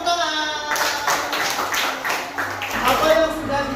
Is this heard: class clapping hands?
yes